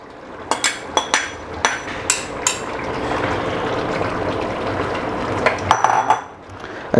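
Chopped tomatoes tip into a pot of mutton for biryani, starting with several sharp metallic clanks of a spoon against the pot, then a wet, squelchy mixing rustle and a few more clinks near the end.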